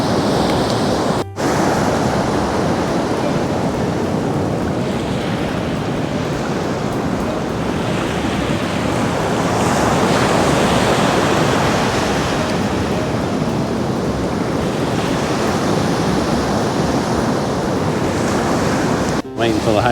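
Ocean waves roll up a Florida beach in winter, tumbling shells in a steady, loud wash of surf mixed with wind buffeting the microphone.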